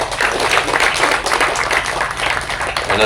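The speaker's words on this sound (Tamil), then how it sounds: "கணேஷ் மாஸ்டருக்கு வந்து தயவு செஞ்சு ஒரு கைத்தட்டல் கொடு" An audience at a Tamil stage event claps in sustained applause. The clapping is dense, loud and continuous throughout, with a faint murmur of voices underneath.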